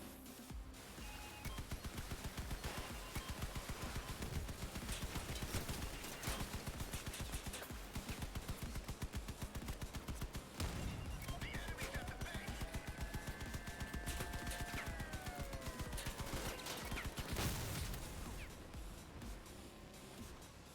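Vehicle-mounted guns blasting in the armored-car combat game Crossout, rapid loud bursts of automatic fire rattling almost nonstop for twenty seconds, with engine rumble and a few whining tones underneath.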